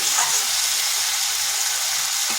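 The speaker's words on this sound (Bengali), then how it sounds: "এটাকে বেশ কিছুক্ষণ এইভাবে কষে নিলাম।" Okra and potatoes sizzle and fry steadily in a pan, a continuous close hiss of frying with no pauses.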